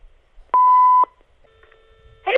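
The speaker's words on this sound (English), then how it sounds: "Leave your message after the beep." A single loud, steady electronic beep lasting about half a second, followed by quiet line hiss and a faint tone rising at the end.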